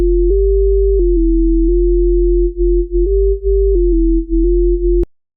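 A Serum synth bass with oscillator B raised three octaves plays a clean, pure tone that steps between a few pitches in a simple line. It is loud and steady, dips briefly near the end and then cuts off.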